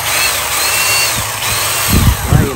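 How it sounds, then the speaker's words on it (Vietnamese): Cordless power saw, model 3404-20, running fairly quietly with a steady hum throughout, with a few louder low thumps near the end. "Đó, máy chạy khá là im luôn, máy này mẫu mới, mã số là 3404-20"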